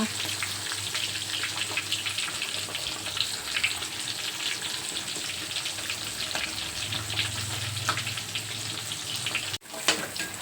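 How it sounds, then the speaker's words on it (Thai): Soured fish frying in hot oil in a home kitchen, a steady, close sizzle that runs unbroken with faint crackles, ending in a brief clatter. "ทอดปลาให้มันเหลืองก่อนนะคะ"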